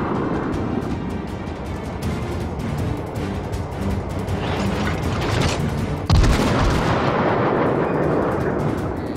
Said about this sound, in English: Fire away. Gonna keep armor piercing loaded.